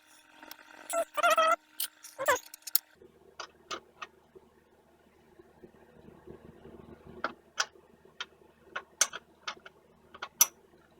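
A wrench cranks down the fitting of a braided stainless steel brake hose during a Brembo brake upgrade on a 2005 GTO, giving a few close, sharp metallic clicks and ratcheting ticks spaced out over quiet moments.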